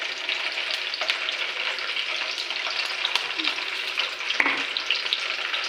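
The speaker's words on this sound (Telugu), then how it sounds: "ఇవి కొంచెం లైట్గా వేయించుకున్నామండి బెండకాయలు." Sliced okra (bhindi) fries lightly in a pan with a steady, close sizzle and faint crackles throughout, plus a couple of soft stirring knocks.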